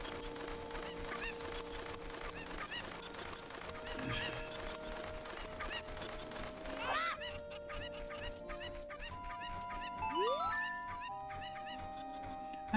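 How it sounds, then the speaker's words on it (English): Cuckoos, the chicken-like birds of Ocarina of Time's Kakariko Village, cluck repeatedly over steady game music, with chirpy sound effects and rising tones later on. "that cuckoo you're attacking will summon others to attack you."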